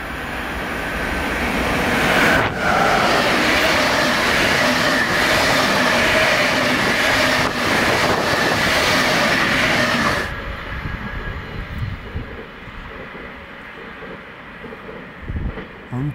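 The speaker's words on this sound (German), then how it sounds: "Belohnt werden wir mit einem Flixtrain, bespannt mit einer schneeweißen Vectron." A passing Flixtrain passenger train hauled by a Vectron locomotive roars loudly nearby with rumbling wheels in the Spessart near Wiesthal, then fades abruptly, leaving quieter outdoor ambience.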